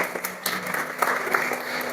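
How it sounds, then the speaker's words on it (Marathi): A church congregation claps together in congratulation, a dense steady patter of many hands filling the whole stretch at moderate loudness. "या मंडळीतर्फे आपण सर्वजण टाळ्या वाजून अभिनंदन करूयात"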